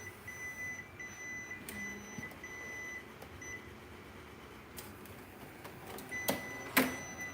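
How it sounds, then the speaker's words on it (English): An Epson printer used for direct-to-garment t-shirt printing sounds alert beeps over a low mechanical hum, with brief tonal chirps and a couple of louder clicks near the end; quiet, with no talk. "right now the printer is telling me, hey, you're not using genuine Epson ink"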